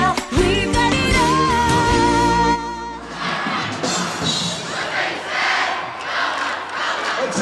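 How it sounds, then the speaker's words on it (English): Crowd in a gym cheers loudly at a high school girls' state semifinal basketball game, with sustained roaring and shouting that dips and swells throughout. "They're cheering in City High territory right now."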